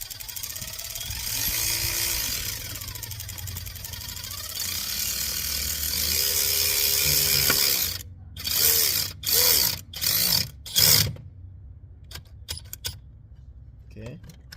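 A ratchet clicks in several short, quick bursts as standpipe bolts are tightened on a 2005 6.0 Powerstroke diesel engine, near and distinct after a stretch of steady background noise, with someone talking.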